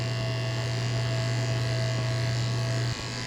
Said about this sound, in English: Shaving a little bit more off his chest.